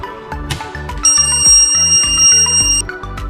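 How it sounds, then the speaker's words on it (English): An anti-theft smartphone display stand alarm, running on its internal battery with power off, sounds a steady high electronic tone after its sensor is unplugged. The tone runs for about two seconds over rhythmic background music. "Once the power is off, unplug the sensor from the smartphone, it will also alarm."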